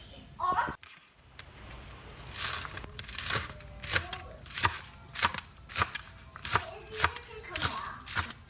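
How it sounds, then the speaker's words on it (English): A knife chops onions and cilantro rhythmically on a cutting board, about a dozen crisp strikes in a steady beat, with a brief rustle near the start. "Right now I'm just chopping up some onions and some cilantro"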